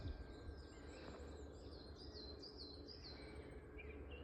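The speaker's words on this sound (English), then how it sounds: "the silence, well, not silence, between the beautiful birds and nature" Birds sing and chirp in countryside near the Severn Valley Railway, with faint repeated trills fairly distant over a constant low outdoor rumble, and no voices.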